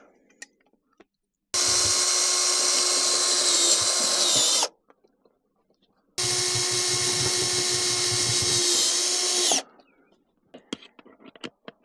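A power drill bores holes to mount a bracket in a shop, in two sustained, loud bursts of about three seconds each with a short pause between, then quiet with a few small knocks.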